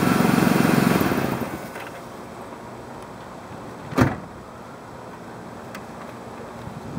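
A car engine is switched off during an alternator and battery voltage check: a steady broadband running drone for about a second fades away into quiet, followed by a single sharp click or thunk a few seconds later. No one speaks.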